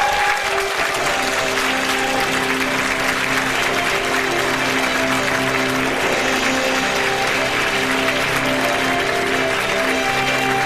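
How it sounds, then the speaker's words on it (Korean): A seminar audience claps loudly and steadily for a speaker walking on stage, dense continuous applause filling the room with a faint cheer underneath and no talk. "큰 박수와 함성으로 맞이해 주시기 바랍니다"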